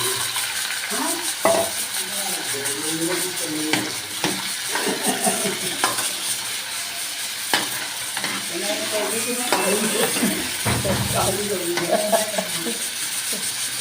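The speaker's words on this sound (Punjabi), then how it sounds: "ਤੇਲ ਗਰਮ ਹੋ ਚੁੱਕਿਆ ਵਿੱਚ ਪਾ ਦਾਂਗੇ ਲਸਣ ਪਿਆਜ਼" Garlic and onion sizzle steadily in hot oil for a chana dal tadka. A continuous frying hiss runs throughout, with occasional stirring and utensil clinks close by.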